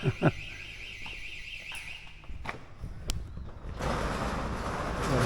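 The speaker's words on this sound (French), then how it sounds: "Ah, il y a l'alarme." A warbling electronic alarm sounds at a moderate distance for about two seconds, then stops, followed by a few knocks and a rising wash of broadband noise.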